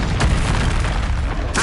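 Confringo blasting spell exploding in a Hogwarts video game, a deep booming burst with rumbling low end, followed by a second sharper impact near the end of the short moment.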